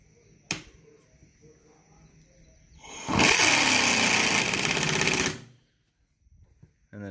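An impact wrench working the rear strut nut on a 2008 Mazda MX-5 Miata runs in one loud, steady rattling burst of about two seconds, preceded by a single sharp metallic click, in a quiet garage.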